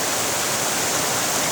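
River water rushing and flowing steadily at a Jamaican riverside, a constant hissing wash filling the whole moment, fairly close and without voices.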